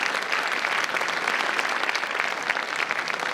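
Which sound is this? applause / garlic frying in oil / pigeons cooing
applause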